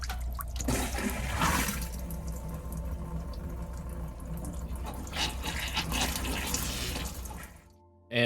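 Water runs steadily from an RV travel trailer's shower head into the toilet during winterizing, a continuous close splashing wash that holds for about seven seconds before cutting off abruptly.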